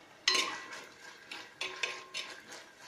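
A spoon stirs chilli sauce into Gobi Manchurian in a pan, striking a sharp metal clank and then giving several more scraping clinks at an uneven rhythm over a faint sizzle, close by and with no talking.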